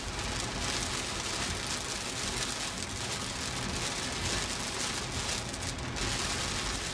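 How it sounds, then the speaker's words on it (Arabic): Heavy summer rain from afternoon cumulus storms pours steadily and loudly onto surfaces, a dense, unbroken hiss with no voices. "مما نتج عن ذلك الهطول الكثيف للأمطار"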